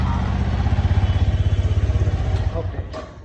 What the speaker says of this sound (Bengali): র্যাপিং খোলা শেষ করে বাইকটা স্টার্ট দিল।